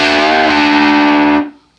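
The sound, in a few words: electric guitar quarter-step string bend with distortion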